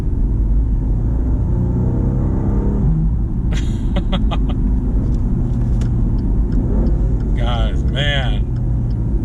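A 2019 Maserati Ghibli engine revs in loud bursts over a steady low rumble, with someone speaking briefly near the start.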